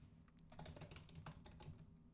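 Fast, light clatter of keys on a computer keyboard as code is typed, a quick, uneven run of close taps that continues for a couple of seconds with no voice.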